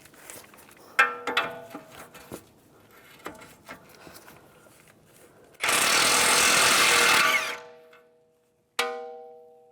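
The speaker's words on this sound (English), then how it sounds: "Now I'm going to take a 22mm socket, take this nut off." Work on the tie rod nut of a 2004-2010 BMW X3 with a 22mm socket: scattered metallic clicks and clanks, then a loud sustained burst of an impact gun, and a final ringing metallic clank.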